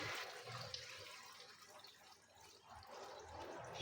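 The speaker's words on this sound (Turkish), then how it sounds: "Şimdi suyunu ilave ediyorum." Water is poured into a pot of browned meat and vegetable stew with peas and potatoes, making a steady hissing, bubbling pour that runs for several seconds, soft and close.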